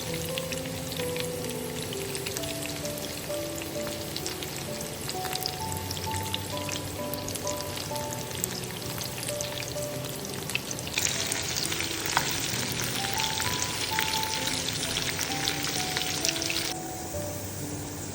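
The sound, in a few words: garlic, onion, pandan and curry leaves frying for dhal tempering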